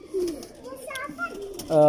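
Pigeons coo softly in a loft, short throaty calls close by, with a voice speaking over them.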